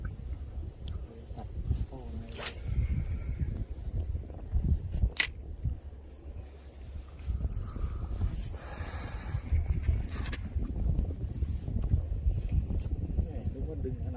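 Steady wind gusts across a small fishing boat at sea, a continuous broad rush with buffeting on the microphone while people talk briefly over it.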